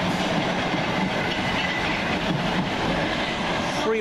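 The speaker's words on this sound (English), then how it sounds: "Next train in, the 1739 Govia Thameslink service from" Govia Thameslink Class 319 electric multiple unit pulling into Farringdon station, a steady loud rumble of wheels and traction with faint clickety-clack over rail joints, continuous throughout with no talk.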